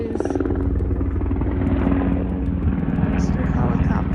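A helicopter flies overhead above a spring garden, its rotor thumping steadily and loudly nearby, a constant droning chop that holds for the whole stretch.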